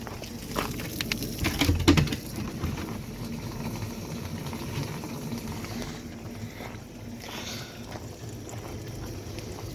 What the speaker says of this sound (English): siphoning all of the gas out of my Cherokee